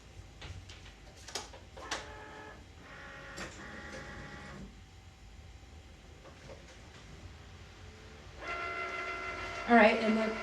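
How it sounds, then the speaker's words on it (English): A Cricut cutting machine set to cut cotton fabric runs in loud mechanical bursts: whirring carriage moves, rapid stepping ticks, and brief pauses between passes, ending in a stronger buzzing stretch. "place it in the Cricut. Tell it it's cut on cotton."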